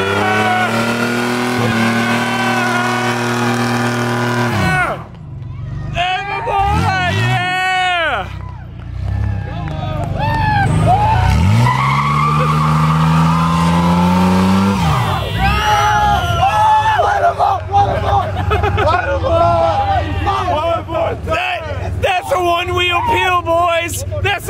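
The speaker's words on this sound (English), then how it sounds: "we're gonna see some burnouts or some revs or something here shortly" Formula Drift cars doing burnouts at a drift event: loud high engine revving rises and falls in sweeping pulls, with tire noise and a cheering crowd under close, excited talk throughout.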